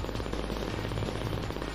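An M16 fires in the arcade game Cadillacs and Dinosaurs. The gunfire is a dense, rapid, continuous rattle amid other game sounds, all steady and fairly quiet.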